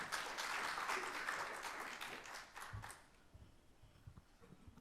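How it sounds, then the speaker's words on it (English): Applause from a conference audience at a fisheries electronic-monitoring session, a dense patter of many hands that holds steady for about three seconds and then thins to scattered claps and room noise. "So another round of applause for Huw"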